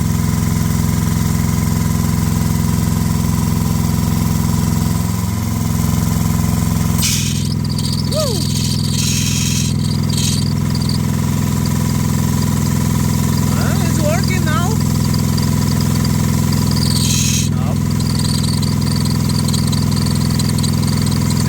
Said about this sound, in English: I gotta wait till the compressor kicked in.